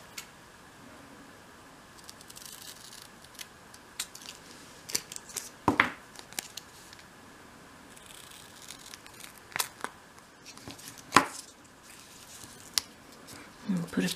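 Small scissors snipping around card covered in double-sided tape for a 1/12th scale dolls house lamp table, sparse quiet crisp cuts scattered over a faint background.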